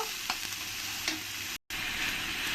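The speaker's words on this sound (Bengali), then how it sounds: "এর মধ্যে দিয়ে দেবো আদা রসুন আর যে কাঁচা লঙ্কাটা আমি পেস্ট করে রেখেছি ওই পেস্টটাই দিয়ে দেবো দিয়ে ভালো করে আমি একসঙ্গে কষিয়ে নেব" Ginger, garlic and green chili paste frying in a pan while being stirred, a steady close sizzle with a few scraping strokes of the spoon and a brief gap in the sound.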